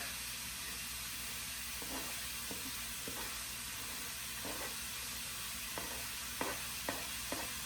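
Bacon searing on high heat in a hot pan for festive burger bundles, a steady close crackling sizzle with occasional sharp pops and stirring clicks, loud and unbroken, with no one talking.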